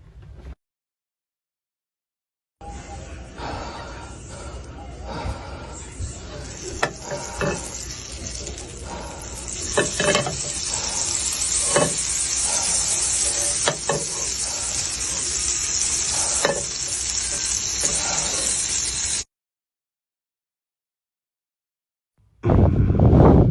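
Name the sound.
butter sizzling in a pan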